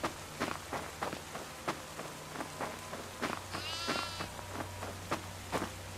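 A goat bleats in the DEVOUR horror video game, a wavering cry rising in the middle, over a steady run of quick footsteps and low ambient hum.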